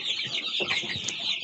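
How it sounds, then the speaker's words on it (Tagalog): Dense chorus of high chick peeping from a flock of 68 chicks of mixed ages in a backyard, continuous and close with a few lower clucks underneath. "Ito po yung lahat ng sisiw natin"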